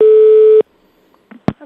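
A telephone line tone during a call, one long steady electronic beep lasting over half a second, then near silence with a few faint clicks at the end.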